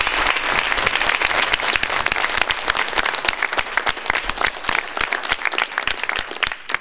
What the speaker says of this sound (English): If you could please show your appreciation for their attendance tonight by a round of applause.